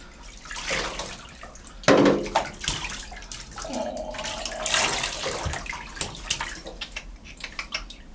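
Water sloshes and splashes in a bathtub as someone moves around while bathing, with irregular bursts of splashing, trickling and dripping close by over a continuous watery wash.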